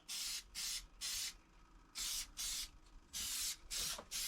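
Black spray paint hisses from a can onto small metal parts in short bursts, roughly eight sprays of about half a second each, close and loud with brief pauses between.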